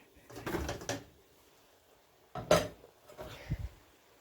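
Braising oxtail being stirred and turned in a pot produces a few close, short bursts of scraping and clinking of utensil against metal, separated by quiet pauses.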